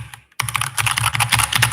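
Rapid, close clicking of keys on a computer keyboard during coding, a dense run of uneven taps with no voices.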